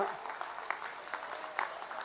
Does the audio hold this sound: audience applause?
yes